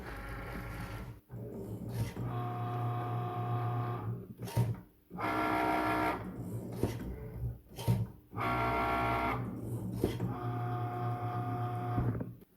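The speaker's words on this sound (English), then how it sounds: "So first of all, the Cricut is gonna score everything." A Cricut cutting machine scores paper with its scoring wheel: repeated motorized whirring passes of a few seconds each, separated by short pauses and clicks, fairly quiet and with no talking.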